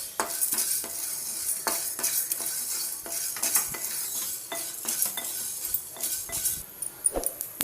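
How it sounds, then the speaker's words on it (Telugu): Coriander seeds dry-roasting in a pan are stirred steadily, producing repeated close scraping and rattling strokes of the spoon against the pan, brisk and continuous for several seconds. "ధనియాలని కూడా దోరగా వేయించుకుందాం"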